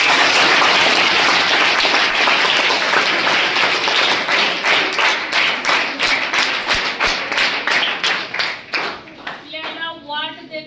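Audience applause at a felicitation ceremony, starting as a dense loud wash of clapping and thinning into slower, distinct hand claps toward the end, with a voice briefly speaking over the last seconds.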